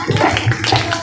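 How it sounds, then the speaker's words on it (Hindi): Hands clapping in a quick rhythmic run of several claps, close and fairly loud, within a devotional Hindi gathering. "तो ऐसे करके ताली बजाओ तो अच्छा लगता है।"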